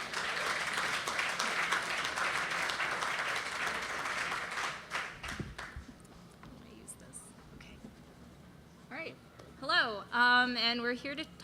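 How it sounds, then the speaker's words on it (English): A conference audience claps for two speakers at a talk on NASA hacks; the steady applause fades after about five seconds, then a speaker begins talking. "can you please give a round of applause to Lucy and Charles?"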